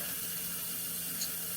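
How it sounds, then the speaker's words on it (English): Cold tap water runs steadily into a bowl with ice in a kitchen, a continuous close, even hiss of flowing water with no talk. "in a bowl, just add some ice and some cold water"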